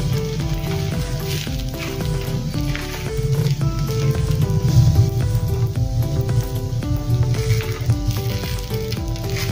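A steady loud sizzle of raw rice batter frying in a hot pan with little oil, with background music playing throughout.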